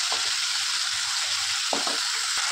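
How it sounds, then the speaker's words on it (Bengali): Spice masala loosened with water hisses steadily in a pan for a chana dal dish, with a couple of soft spoon scrapes breaking through the constant close sizzle. "জল দিয়ে মশলাটাকে ভালো করে করে নিচ্ছি"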